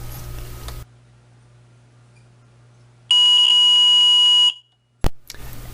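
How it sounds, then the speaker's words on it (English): A bilge water sensor alarm on a hand-built soldered circuit blares a loud, steady high-pitched electronic tone for about a second and a half, then cuts off, following a quiet stretch with faint hum. "If I dip the water sensor wires into the bilge, the alarm should sound."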